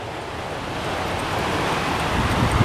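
Ocean waves and wind on a beach, a constant broadband wash of surf with gusty wind buffeting the microphone, building slightly louder toward the end.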